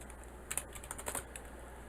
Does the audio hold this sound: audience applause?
no